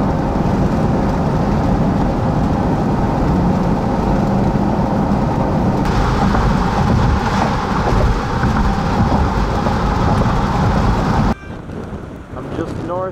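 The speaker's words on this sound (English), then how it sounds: "The storm's about to cross over." Severe thunderstorm with heavy rain and strong winds near Grand Lake of the Cherokees in eastern Oklahoma, a steady loud roar of wind and rain buffeting the microphone, easing abruptly near the end.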